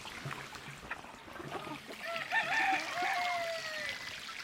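A docile farmyard rooster among geese and chickens crows once, moderately loud and slightly distant, over outdoor background noise and trickling water.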